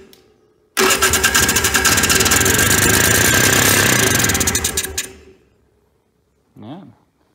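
A long-neglected barn-find Trail Boss ATV engine cranks, catches and runs loudly and steadily for about four seconds, then cuts out, followed by a brief voice.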